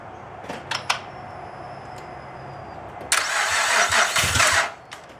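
A 2008 Honda Pilot's swapped engine cranks briefly, goes quiet, then catches with a loud rough burst of sputtering and popping that cuts off after a couple of seconds.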